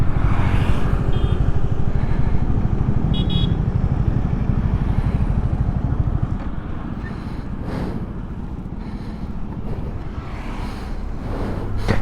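A motorcycle cruises on a highway in India on a long ride from Kolkata toward Darjeeling, its engine a steady low drone under heavy wind buffeting, easing slightly midway and then holding on.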